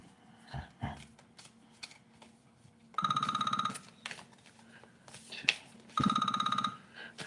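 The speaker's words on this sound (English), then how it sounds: "course, the phone's gonna ring" A telephone rings twice in short, loud bursts of bright repeated trills, with quieter rustling and handling noises between the rings.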